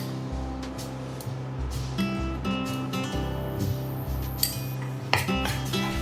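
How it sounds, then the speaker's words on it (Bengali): A utensil scrapes and clinks against a pan as flour is stirred into melted butter over low heat, with irregular metallic taps close by and no talk. "ময়দা বাটারটাকে ভালোভাবে মিক্স করে অল্প আঁচে নাড়াতে হবে 3 থেকে 4 মিনিটের জন্যে।"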